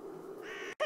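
Birds call over a pumpkin patch in the video game The Whispered World, with one clear caw-like cry standing out near the end above a soft, steady background tone.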